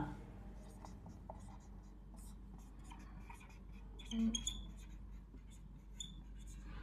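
Marker or chalk scratching on a classroom board during a Class 9 maths lesson on lines and angles, a steady scratchy texture running throughout under a low room hum, with a brief louder stroke midway.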